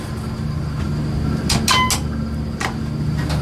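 Modded Otis elevator door at Pono Kai in Kauai slides shut over a low machinery hum, with a couple of short scraping and squeaking bursts in the middle and a soft bump near the end.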